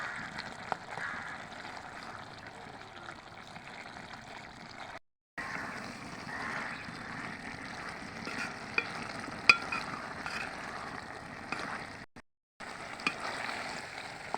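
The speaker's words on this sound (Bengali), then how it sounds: "এটা ভালোভাবে নাড়া দিবেন, ঘটঘটা করে, শাক যেন হয়ে যায়, আউলে যায়।" Pumpkin greens and jackfruit seed curry being stirred in a pan, a steady scraping and sizzling with two brief pauses, close and moderately loud with no talking.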